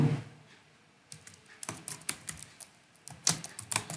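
Quick bursts of keystrokes on a computer keyboard as a name is typed into a Google Form search, close and clicky, with short pauses between clusters of taps.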